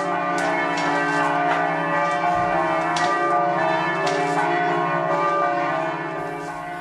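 Church bells set ringing by an electric mechanism, several bells striking in an overlapping, ringing peal with repeated strikes and long sustained tones, loud and close.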